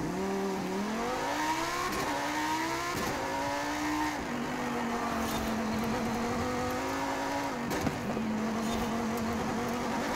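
Lamborghini Super Trofeo race car in Forza Horizon 5, rear-wheel drive build, engine revving up through gears with rising pitch and shifts, steady loud drone throughout, no talking.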